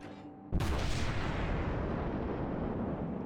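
Heavy naval guns of the German cruiser Admiral Hipper in World of Warships let off a sudden loud broadside after a brief quiet moment, followed by a long rumbling roar and rolling echo with no talk.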